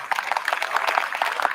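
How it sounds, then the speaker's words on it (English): Audience applause after a conference session, a dense spread of many hands clapping at steady volume, fairly close, for a short burst with no voices. "So just give yourself a big round of applause"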